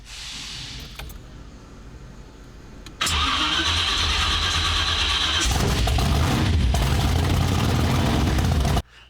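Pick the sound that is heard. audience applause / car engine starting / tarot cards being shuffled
car engine starting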